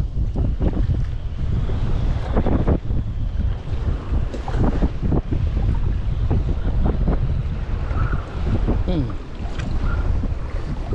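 Heavy wind roars across a fishing kayak at sea off Melaka, loud and continuous with gusty pulses and wave wash, a voice briefly audible beneath the buffeting.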